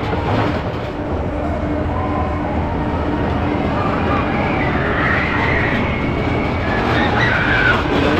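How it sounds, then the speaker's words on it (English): A mine train family coaster at Botton's Pleasure Beach in Skegness, heard from the back row: a steady, loud rumble of wheels and rolling cars runs throughout, with faint crowd noise mixed in. "we are now on the back row there of the mine train"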